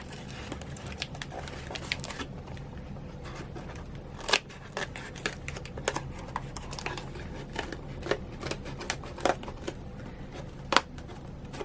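Crisp, irregular snips and rustling of scissors cutting through material for a toy mouse house, with a few louder sharp clicks standing out over steady handling noise.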